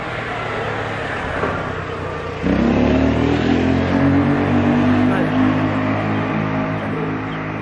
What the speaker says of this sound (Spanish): Espera, que pasa una moto.